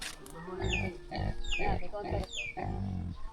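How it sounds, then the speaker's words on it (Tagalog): Pigs on a farm grunt and oink in a run of loud, close calls, several bursts in quick succession with a faint bit of background noise. "Tingnan niyo yung mga baboy, mga maninay."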